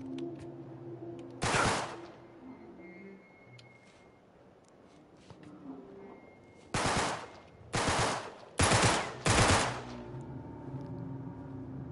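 Gunfire in the Uncharted 3 video game: six loud bursts of rapid automatic fire, one early and a tight cluster of five later, over quiet background ambience and faint music.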